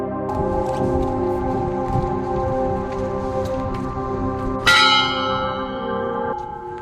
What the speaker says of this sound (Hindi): गेट पर लगी घंटी बजाते ही उसकी आवाज़ से पूरी वैली गूंज उठती है।